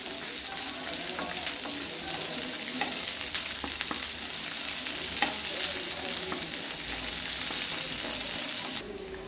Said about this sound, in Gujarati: ડુંગળીને પણ તમારે સાતળી લેવાની છે।